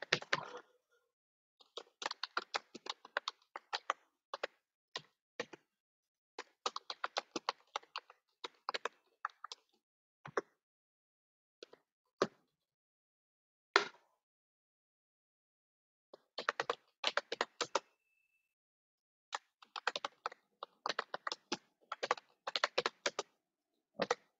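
Irregular clusters of quick keystrokes on a computer keyboard while PHP code is typed into a Linux terminal, tapping in short bursts separated by pauses of silence, close and fairly quiet.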